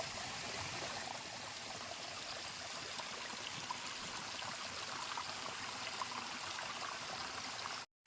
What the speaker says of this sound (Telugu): సో మీకు అటుపక్క కూడా వాటర్ ఫాల్స్ ఉంది.